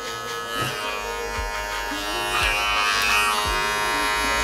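Electric hair clippers with a number one guard buzzing steadily while cutting at the back of a head during a low mid skin fade haircut, a continuous close hum with small changes in pitch.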